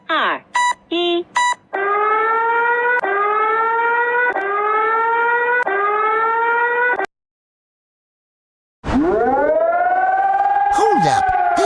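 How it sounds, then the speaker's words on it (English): Emergency alert system siren alarm: a few short beeps, then a loud sustained wavering tone with periodic sweeps, a brief silence, and a new rising alarm tone starting up. "This is the alarm that I'm not looking for."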